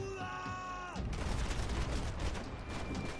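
Rapid gunfire in the video game Max Payne 3, a dense burst of loud shots after a ringing, sliding tone, with faint talk underneath.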